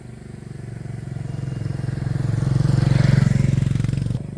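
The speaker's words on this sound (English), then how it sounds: "I'm stepping out of the road because I hear a scooter coming" A small scooter engine approaches on a road in a Hmong village near Chiang Mai, Thailand, and grows louder, its steady buzzing hum peaking near the end before easing slightly.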